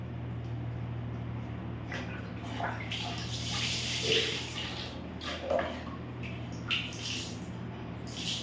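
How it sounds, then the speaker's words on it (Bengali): A child washes her hands under running water with soap, with soft splashing and dripping close by and occasional faint adult talk. "ধোয়া হাতটা জল দিয়ে"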